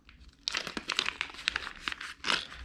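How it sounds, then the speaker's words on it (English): Plastic product packaging for a rifle cable clip being ripped open, with a close series of crinkling and tearing bursts after a quiet start. "I just got in the mail, so I'm gonna rip one open."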